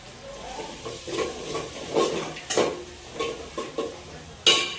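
Onions and green chillies sizzle in hot oil for veg biryani, with soft frying hiss and a series of stirring scrapes and clinks against the pan, close and fairly quiet.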